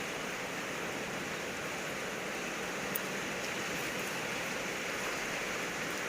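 Rain falls at a rural home, a soft, even, continuous hiss that stays steady and fairly quiet with no voices.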